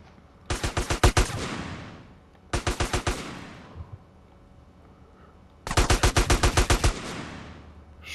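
Video game gunfire in GTA San Andreas Definitive Edition comes as three loud bursts of rapid automatic shots, each string of sharp cracks trailing off into an echo, with pauses in between.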